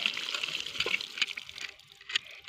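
Water spraying and splashing in uneven bursts on a farm, a hissy wet rush that rises and falls, fairly close with no talking.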